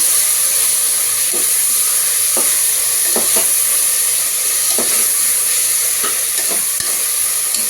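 A spoon stirs chopped tomatoes in a frying pan over a constant loud sizzle and hiss, with a handful of scattered scraping knocks and no voices.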